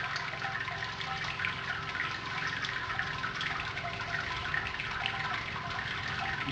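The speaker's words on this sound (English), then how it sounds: "I'm just going to let this drain, get this sparge done" Wort draining from a Brewzilla brewing system during the sparge on a cherry pie stout brew day, a steady close trickle and splash of liquid running continuously without a break.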